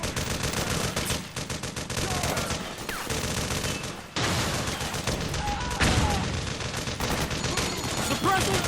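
Dense gunfire in the Metal Gear Solid 4 video game comes as loud, continuous automatic bursts and rapid shots, with one brief break before the firing resumes just as heavily.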